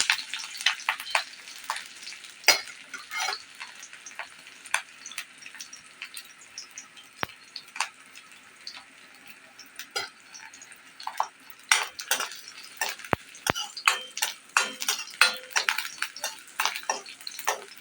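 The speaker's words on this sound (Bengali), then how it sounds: "জিরা কাঁচা দিয়ে দেবো কটা রসুন, দিয়ে আমি একটু ভালো করে নেড়ে ছেড়ে ভেজে নেব।" Garlic, cumin and green chillies fry in a pan, with scattered clinks and scrapes of a spatula stirring against metal over a faint steady sizzle; irregular, close, moderately loud bursts with quiet gaps.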